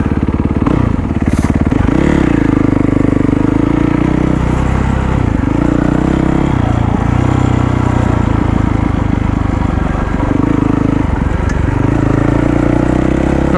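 A Yamaha WR450 dirt motorcycle rides through an abandoned mine site, its engine droning loud and steady throughout with repeated revs and throttle changes, no talk over it.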